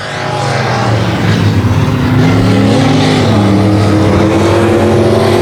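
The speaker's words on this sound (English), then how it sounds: "You can hear him working that throttle nice and smooth throughout the corner." Race car at a speedway, engine held on a smooth steady throttle through a corner and onto the back straightaway, a loud continuous drone with rising and falling pitch, close and alone.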